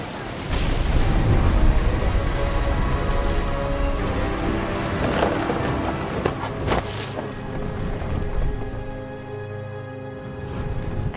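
A thunderstorm in the video game What Remains of Edith Finch brings a loud, steady roar of heavy rain that washes on without a break for the whole stretch.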